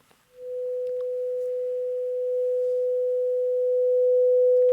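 A single steady sine tone that starts abruptly after a short pause and holds a constant pitch, swelling in two small steps as a second matching in-phase tone reinforces it, clean and alone.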